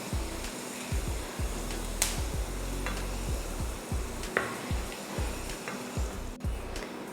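Ginger frying until crisp in hot oil makes a continuous, soft sizzle, while a spoon scrapes through the pan in repeated, rhythmic low strokes.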